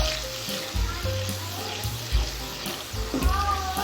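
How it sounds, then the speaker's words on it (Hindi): Whisked yogurt frying in a pan for a chana dal curry, giving a steady close sizzle with light stirring and clinks, under a background hum and faint voices. "अच्छे से मिक्स करेंगे और 3 से 4 मिनट अच्छे से भून लेंगे"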